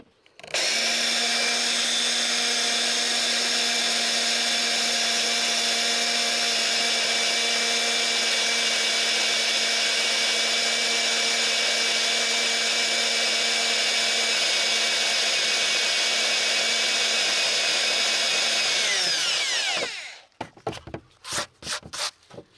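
A power drill whines steadily and loudly for about twenty seconds while drilling out spot welds on a Jaguar XJ X300 floor support, then stops, followed by a few sharp metallic clanks and knocks.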